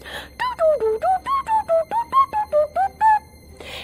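A voice mimics R2-D2 droid beeps with a quick run of about thirteen short whistled chirps, rising and falling in pitch, close and clear.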